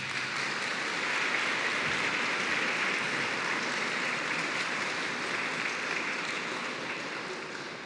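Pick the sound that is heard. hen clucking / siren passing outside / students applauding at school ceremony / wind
students applauding at school ceremony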